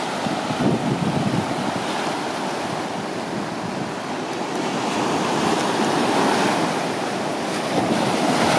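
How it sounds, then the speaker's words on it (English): Ocean waves and surf roll onto a Puerto Rico beach during a surf competition, a continuous loud wash of breaking water mixed with heavy wind buffeting the microphone, with no voices. "And we're looking at waves today."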